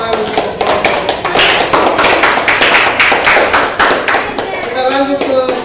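A group of people clap together for a presentation in a classroom setting, a dense, close patter of handclaps lasting throughout with voices mixed underneath.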